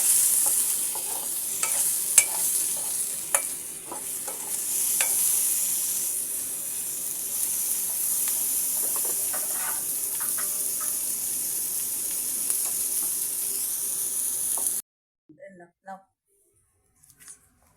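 Bottle gourd peel fries in mustard oil with a steady, close sizzle for about fifteen seconds. Scattered clicks of stirring run through it, then it cuts to near silence with a few faint taps.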